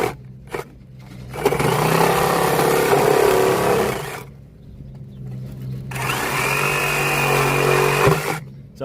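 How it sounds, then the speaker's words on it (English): A power saw cutting buried PVC downspout pipe, two long loud buzzing cutting bursts separated by a short pause, with no talking. "All right, so we're gonna cut this PVC pipe for you."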